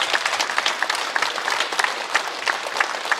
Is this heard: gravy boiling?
no